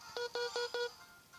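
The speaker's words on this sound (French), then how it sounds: "Désolé pour le bruit, c'est mon téléphone," Mobile phone low-battery alert: four short, even electronic tones in quick succession, quiet and alone with no talking.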